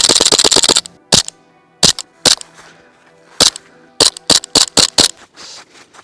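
Sharp, loud BB gun shots, first a rapid burst of about eight close shots, then a series of single cracks at irregular intervals, with no talking.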